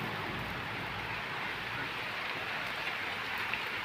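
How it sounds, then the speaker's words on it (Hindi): Heavy rain falls steadily as a dense, even hiss, continuous and close, with no talk over it. "लेकिन अब तो बरसात होने लगी, कस के पानी आ गया"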